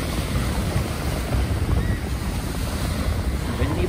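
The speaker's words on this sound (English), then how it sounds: "Windy day." Wind gusts buffet the microphone with rumbling, uneven bursts, a constant blustery roar filling the whole stretch.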